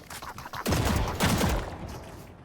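Loud, rapid gunfire in Valorant: two heavy, dense volleys of shots with scattered lighter shots before and between them, and no voices.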